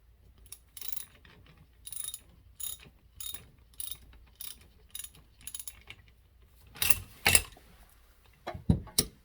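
A 17 mm wrench ratcheting on the bottom of a 2003 Kawasaki ZX-9R front fork, sharp clicking bursts repeated in a steady rhythm, then louder, quicker clicks near the end, close up and with no talk.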